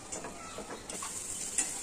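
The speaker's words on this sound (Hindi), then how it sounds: "यहाँ पे ले लिए मैंने एक बड़ी प्याज, जिसको हमने सिर्फ थोड़ा सा सॉफ्ट करना है, गोल्डन फ्राई नहीं करेंगे" A large onion gently softening in butter in a pan gives off a quiet, steady sizzle, with faint scrapes and stirring taps over it. There is no talk.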